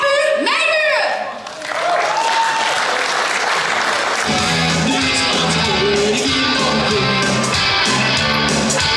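A festival crowd at the Aaipop 2022 event in Nijlân breaks into loud, sustained applause and cheering, with whoops and shouts at first and music swelling underneath as the clapping continues.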